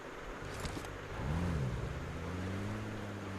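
A car driven in the battle-royale game PUBG: a steady low engine drone throughout, swelling into a louder revving rise around the middle before settling back to a constant hum, with no talk.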